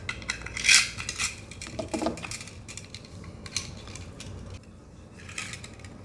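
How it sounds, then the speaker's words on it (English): A P80 Glock-style pistol magazine being reassembled on a tabletop: close, sharp clicks and light clattering of small plastic and metal parts, several bright snaps, then quieter fiddling with brief pauses between. "And we'll reassemble our magazine"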